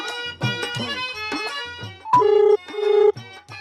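A phone rings in short repeated electronic bursts with a melodic ringtone pattern, two longer tones near the end, against a quiet indoor background.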